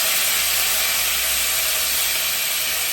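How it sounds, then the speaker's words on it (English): Steak and shrimp, with their resting juices, going back into a hot pan, making a loud, dense, continuous hissing sizzle like steam that stays steady and close for the whole stretch, no voices. "We're going to add our steak back to the pan, along with our shrimp, of course."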